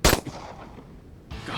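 A single rifle shot at a deer on open prairie cracks out loud and sharp at the start, then a brief rolling echo fades away.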